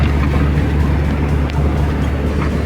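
A GAZelle van driving on a rough, bumpy road in Ukraine, giving a steady, loud low engine and road rumble throughout with no voices.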